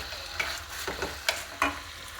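Chopped chicken frying in a little oil in a pan as it gets stirred, a steady soft sizzle broken by a few sharp scraping clacks of the spoon, close and alone with no voices.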